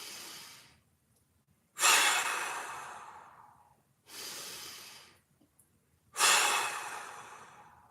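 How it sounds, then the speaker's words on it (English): Slow, deep breaths during a mobility exercise: three long, loud breathy rushes of air, each fading away, separated by near-silent pauses. "Hands on the rib cage, feel it expand. 3 big breaths."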